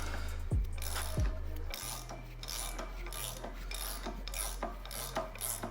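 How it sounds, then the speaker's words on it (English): Hand-winding a bush into place, with a steady rasping, grinding scrape that repeats in short strokes, close and alone at a low level, with a low steady hum underneath. "it's just a case of winding it all the way in"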